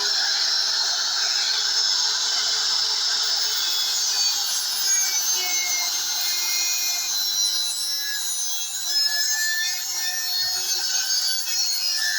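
Continuous high-pitched rasping of a blade cutting through corrugated plastic cable conduit, steady and close throughout with no voices.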